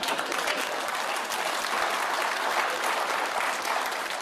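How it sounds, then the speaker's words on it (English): Television studio audience on the panel show Have I Got News for You gives a full round of applause, a thick, continuous roar of clapping at steady loudness with no talk over it. "I can't believe that rubbish got a round of applause."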